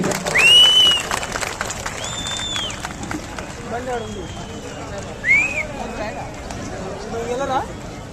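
Applause welcoming guests being honoured at a CPI centenary meeting in Nalgonda, Telangana, where a crowd claps steadily throughout beneath loud voices, chatter and shrill microphone feedback tones.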